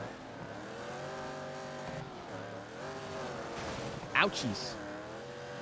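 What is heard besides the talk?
rally buggy engines racing in DiRT 2 video game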